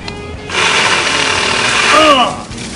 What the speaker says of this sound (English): Skill sawzall to the test.